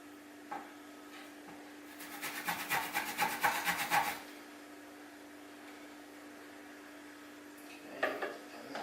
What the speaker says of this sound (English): I'm going to grate half a teaspoon of fresh ginger on the chopping board